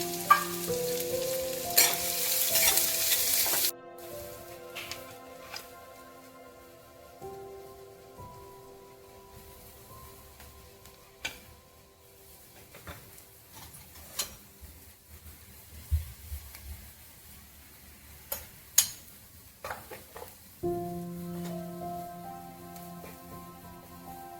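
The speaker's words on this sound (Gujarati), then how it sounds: "ડુંગળી સંતળાઈ જાય પછી તેમાં કોપરાનું છીણ, લાલ મરચું, મીઠું નાખીને હલાવો" Fried onion stirred with grated coconut, red chili and salt in a pan for khandvi stuffing, a soft steady sizzle broken by scattered scraping clicks of the spoon, with louder bursts of sizzling at the start and end.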